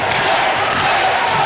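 Wrestling crowd at a Celtic Championship Wrestling show in Bishopstown, a steady roar of cheering and shouting filling the hall, loud and continuous with a few dull thumps underneath.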